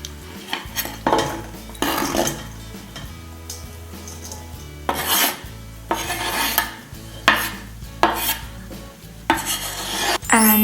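Chopped hard-boiled eggs are scraped into a bowl for egg salad, making bursts of close, wet scraping and light clinks of a utensil against the bowl.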